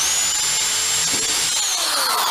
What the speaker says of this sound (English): I'm going to drill a hole and see how deep it goes